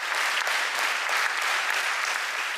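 Theatre audience at Egervár giving warm, continuous applause, a full and even patter of many hands clapping with no voices on top.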